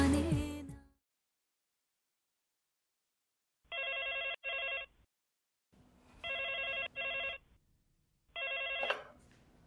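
In a drama scene, a telephone rings in three separate bursts of electronic double trills, each set apart by a short pause, moderately loud, following a brief moment of sound at the start.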